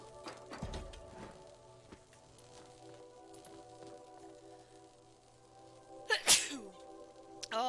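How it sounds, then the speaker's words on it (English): A single sharp sneeze bursts out near the mic, loud and close, over a faint steady hum and scattered soft clicks of game play, with a brief broadband burst near the start. "I had to sneeze."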